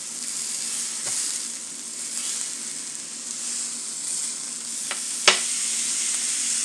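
Steak sizzling steadily in a hot frying pan, a constant bright hiss with a few sharp clicks and one louder clack of utensil against pan near the end, no voices.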